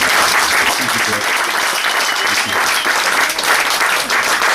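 An audience at the Village Pump Fest 2014 folk festival claps after Greg Hancock's voice and guitar set, a loud, dense and continuous wash of applause heard close up.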